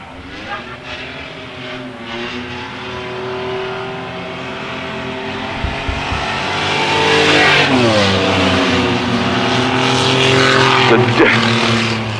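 Several race cars roar around a dirt oval track at Susquehanna Speedway, loud overlapping engines rising and falling in pitch as they accelerate down the straightaway and through the turns, with a steady drone throughout.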